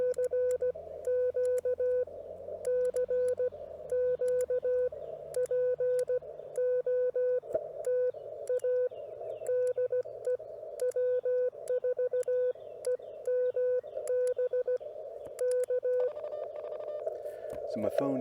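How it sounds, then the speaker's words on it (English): A Ham Alert phone app chimes a rapid run of repeated electronic notification beeps, near and steady, over a constant CW sidetone and radio beeping during a ham radio pile-up, ending in a brief louder tone. "Now my phone should go doodle-doodle-doo because there's an app out there called Ham Alert"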